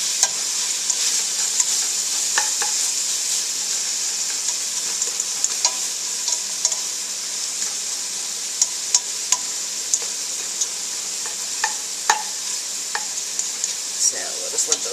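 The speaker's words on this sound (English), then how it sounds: "I just want to kind of stir these around until they're kind of soft, so the onions kind of turn translucent" Onions sautéing in a pot for clam chowder give a steady bright sizzle throughout, with scattered soft scrapes and clicks of a utensil stirring them, close and continuous, with no talking.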